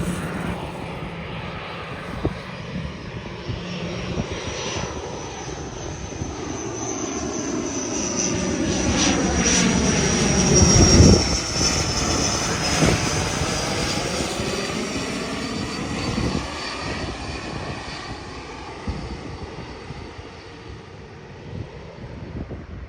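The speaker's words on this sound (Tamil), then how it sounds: "இண்டிகோ விமானம் வருதா பாருங்க." An IndiGo passenger airplane passes over Palali in Jaffna, its engine roar building to a loud peak midway and then slowly fading as it moves away, heard alone with some wind noise.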